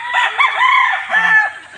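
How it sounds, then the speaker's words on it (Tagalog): Imported fighting roosters crow and cluck loudly at close range in a Philippine yard, one drawn-out crow followed by shorter calls. "Oh, ito ay mga panabong."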